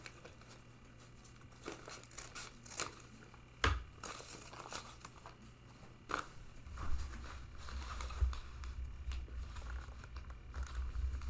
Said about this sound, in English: Again, it's just because I like the sound of the paper.